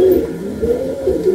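Saharanpuri pigeons coo in a low, continuous throaty murmur, close and steady with no other sounds.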